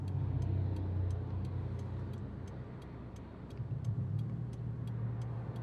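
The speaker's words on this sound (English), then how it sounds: "Cars to my right, cars to my left." Traffic on a busy street in Norwich, Connecticut, heard from inside a waiting car: a steady low engine and road rumble that swells slightly, with a regular mechanical ticking running throughout.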